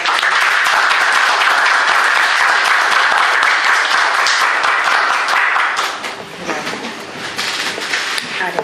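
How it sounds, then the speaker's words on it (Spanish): Loud audience applause at a history talk in an institute hall, sustained dense clapping for about six seconds, then dying down to scattered claps beneath a speaker's voice. "a Norma Morandini, por quien pido un aplauso."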